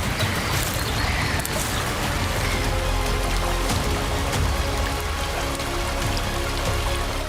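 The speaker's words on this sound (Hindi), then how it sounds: "लेकिन बादल और बारिश के साथ लुका छिपी जारी थी।" Rain falls steadily on stone mountain steps amid drifting clouds on Brahmagiri near Trimbakeshwar, a dense, even hiss of drops close by with a low rumbling wash underneath, continuous throughout with no voices.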